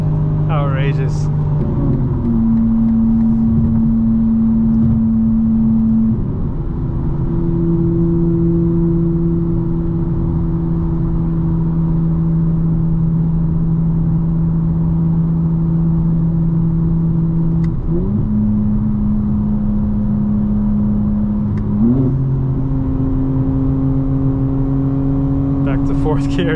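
A 2025 BMW M4 Competition xDrive engine pulls hard from inside the car, its steady drone rising in pitch through several gears with sharp drops at each shift, loud and continuous throughout.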